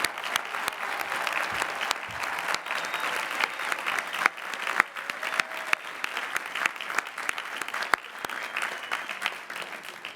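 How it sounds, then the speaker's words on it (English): Sustained applause from a large audience honoring graduates at the 2017 Lehigh University commencement, steady dense clapping throughout with no voices on top. "So let's give all of our graduates a round of applause."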